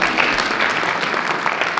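Brief, dense applause from a comedy club audience, a steady patter of many hands clapping close by, with a faint voice underneath.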